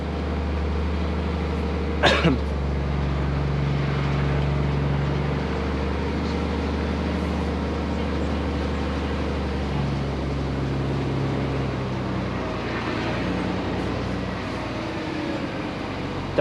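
A car, not a V8, driving along a small road outside Kungsbacka with the window down, giving a steady low engine and road rumble with wind noise and a brief sharp sound near the start, with no talk.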